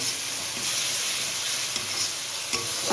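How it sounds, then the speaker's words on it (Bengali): Turmeric, ginger-garlic paste and chilli powder sautéing in hot oil for a tangra fish curry, with a loud continuous sizzle and a few scraping stirs close by. "হলুদ গুঁড়ো, দিয়ে দেবো আদা রসুনের পেস্ট, 1 চামচ লঙ্কার গুঁড়ো। এটা ভালো করে কষিয়ে নেবো।"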